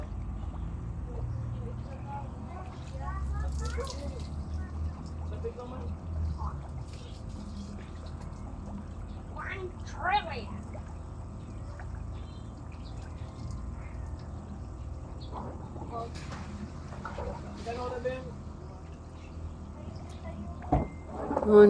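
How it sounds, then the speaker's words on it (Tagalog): Water keeps sloshing and churning in a concrete pond after a magnitude 5 earthquake. The low, steady wash runs throughout while people talk intermittently nearby. "Matagal talaga mag-stop ang tubig."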